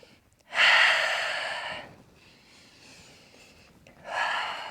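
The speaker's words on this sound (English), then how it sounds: "breathing in, breathing out" Close, audible yoga breathing during a vinyasa flow: a long strong inhale or exhale, a softer quieter breath, then another strong breath beginning at the end, with no talking.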